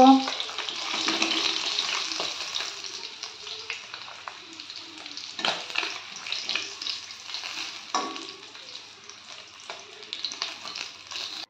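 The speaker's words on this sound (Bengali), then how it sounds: "উল্টে পাল্টে মাছগুলোকে আমি লাল লাল করে ভেজে নিয়েছি।" Pieces of rohu fish fry in oil in a pan for a Bengali-style rui posto, giving a steady, close sizzle with bursts of crackle and a few soft utensil knocks throughout.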